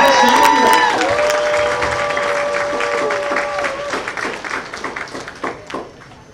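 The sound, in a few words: audience applause for bowlers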